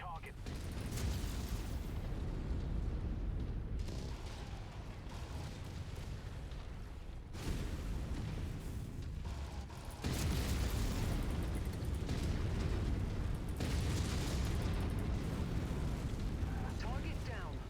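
Weapon fire and explosions hit targets in a vehicle combat video game, with dense, continuous booming blasts and rumbling bursts, and voices talking over the din.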